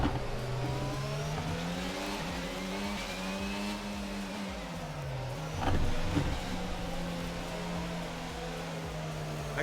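A Formula 1 race car engine in F1 22 on the Baku street circuit, a loud close whine that climbs and holds through the gears, dips briefly near the middle, then steadies again, heard with no talking.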